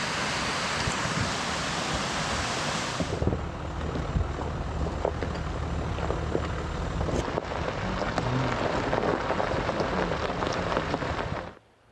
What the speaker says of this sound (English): it's really a pretty waterfall in the Tahoe National Forest